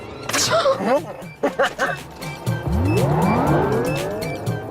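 Car driven hard and fast, tires squealing in long rising and sliding screeches over a loud engine, with voices talking over the start.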